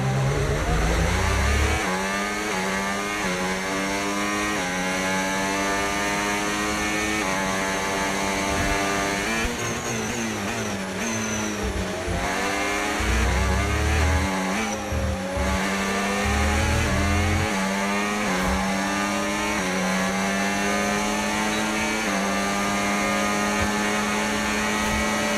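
A Formula 1 race car engine in the F1 25 video game screams continuously at high revs, its pitch climbing and dropping with gear changes, loud and sustained throughout.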